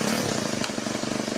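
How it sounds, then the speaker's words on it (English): Engine running on diesel fuel made from plastic waste, a steady rapid chugging idle with a slight rattle, close and continuous throughout with no talking. "I'm going to be running this engine here off of plastic diesel."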